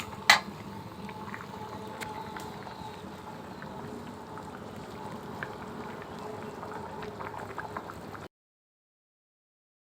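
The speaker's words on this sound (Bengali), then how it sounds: "এখানে ততক্ষণে ফুটুক, ঝোলটা হোক অনেকক্ষণ ধরে ঝোলটা" Fish curry gravy simmers in a pot with a steady bubbling, faint clinks of utensils in a home kitchen, continuing evenly before cutting to silence near the end.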